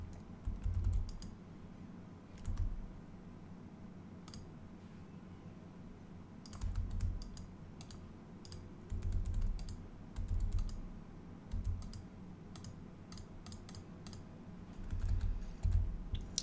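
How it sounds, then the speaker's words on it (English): Someone types on a computer keyboard while editing in Photoshop, making irregular bursts of sharp key clicks against a low background hum, close and with no talking. "you can hit the backslash key on your keyboard"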